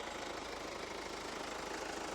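A Kia Sorento 2.2 diesel engine idles steadily with a faint knocking rumble, quiet and constant throughout the short stretch.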